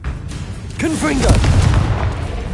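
Heavy booming blast from a Confringo spell in Hogwarts Legacy, a loud low rumble swelling and lingering under a voice that shouts over it.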